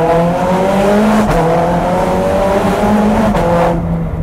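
A Ferrari 430 Scuderia with a Capristo exhaust and single-clutch gearbox revs hard close by, its loud engine note climbing in pitch and dropping twice between rises, alone with no talk.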